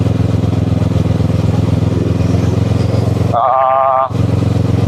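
A Kawasaki ER6N motorcycle engine drones steadily while riding toward Jatiluwih, a loud, close, continuous rumble with a brief dip in the middle where a higher tonal sound cuts through.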